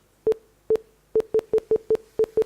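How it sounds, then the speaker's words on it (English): Short, sharp electronic beeps at one pitch come in an uneven Morse-like pattern, nine pulses separated by short and long gaps, clear against a quiet background. "Sounds like a Morse code."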